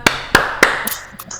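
Three sharp, separate claps in quick succession at a scout group session, close and distinct, followed by faint scattered taps.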